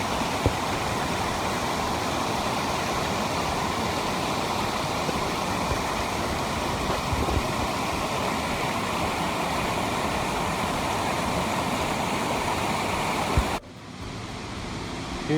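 Eight Mile River rushing over the falls at Devil's Hopyard, a steady, dense roar of flowing water that stays loud and unbroken before dropping slightly at the very end.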